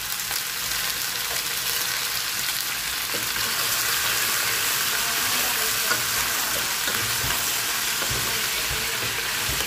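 Chicken feet fry and get stirred through caramelized melted sugar with peppercorns and bay leaves, a dense steady sizzle close by, with soft scraping stirs now and then and no talking.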